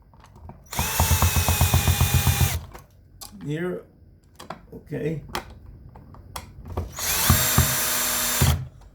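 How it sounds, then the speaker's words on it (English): A power drill whirs loudly in two bursts, speeding up and slowing as it drives screws while installing a three-way light switch, with ratcheting clicks and a short spoken remark between them. "I got my drill to save time."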